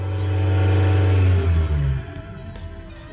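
A warmed-up car engine holding around 3000 rpm drops away as the foot lifts off the accelerator, the loud steady drone sagging and settling into a quieter hum within about two seconds.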